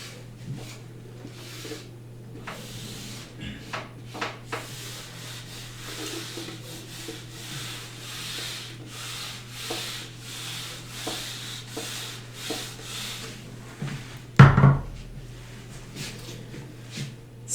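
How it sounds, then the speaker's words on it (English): A surface is rubbed in steady back-and-forth strokes for most of the clip. The rubbing stays soft and close, and a single louder thump comes near the end. "I am rubbing this now."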